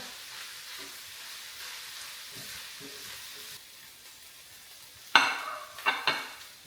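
Bacon crisping in a pan during breakfast prep gives a soft steady sizzle and stirring, then a few sharp clattering pan and utensil knocks near the end.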